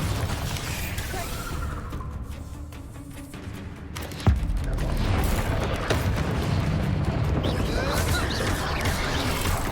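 A Bombarda blasting spell explodes in Hogwarts Legacy: one sharp, loud boom strikes midway through a dense, continuous wash of noisy game sound, which stays louder afterward.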